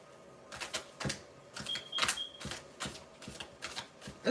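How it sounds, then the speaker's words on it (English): Overhand shuffling of a thick tarot deck: a run of soft, close papery riffling bursts in an uneven rhythm, one after another, with no talk. "in overhand shuffling, which is like what I usually do when I shuffle"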